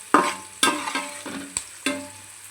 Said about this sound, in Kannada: ಹಸಿಮೆಣಸು ನೀರೆಲ್ಲ ಹಾಕ್ಕೊಂಡು ಹೀಗೆ ತಿರುಗಿಸ್ಕೊಳ್ಬೇಕು